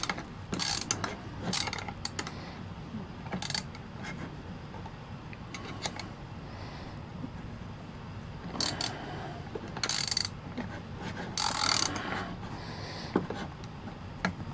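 A ratchet wrench tightens a nut on a homemade 17-inch hunting stick, giving short bursts of rapid clicking with pauses between strokes, close and moderately loud over a faint steady background hum.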